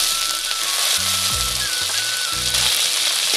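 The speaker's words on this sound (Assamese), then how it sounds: "প্ৰথমে বুটমাহখিনি ফ্ৰাই হৈ লওক" Chickpeas fry in oil in a wok alongside onions, a close, continuous crackling sizzle filling the whole stretch, with a low humming tone underneath and no voices.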